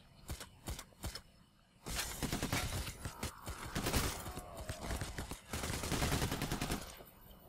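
Rapid bursts of gunfire in the video game PAYDAY: The Heist, first a few separate shots, then sustained heavy firing with crackling impacts, loud and continuous, with no talking.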